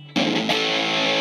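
A chord struck on electric guitar through a Monkey FX overdrive distortion pedal bursts in after a brief quiet hum, then sustains as a dense, saturated wash of gritty harmonics, loud and unaccompanied.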